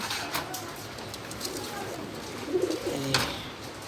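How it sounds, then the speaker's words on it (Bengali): Pigeons cooing softly at close range while being placed into a cage by hand, a few low murmuring coos under faint handling noise. "আগে কবুতরগুলোকে আস্তে আস্তে খাঁচায় ঢুকাই ফেলি"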